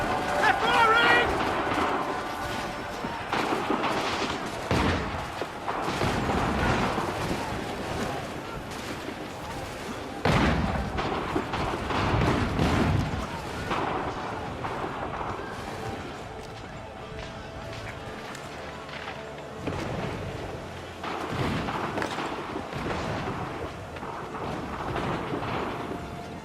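Battle gunfire and artillery in Assassin's Creed 3, with repeated heavy booming blasts and crackling musket volleys rolling through the scene, loud and dense, while voices shout over the chaos.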